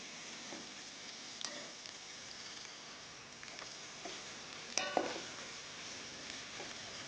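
Quail sautéing with ginger garlic paste in a pan makes a quiet, soft sizzle, with scattered spoon clicks and scrapes that grow a little louder near the middle.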